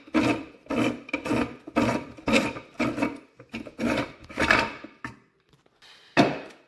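A plastic disc is unscrewed inside a Mockmill 100 grain mill, a close series of about ten short rhythmic scraping turns that ends with a pause and one final grating twist.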